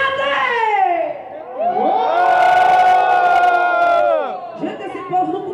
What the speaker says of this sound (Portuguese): eu quero ouvir o gritinho da macharada